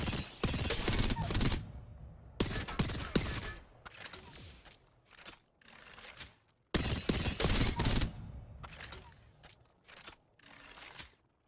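Nemesis burst rifle firing in Apex Legends, two long strings of rapid bursts with short gaps, first while warming up then at full speed, loud and sharp with brief ringing tails between volleys.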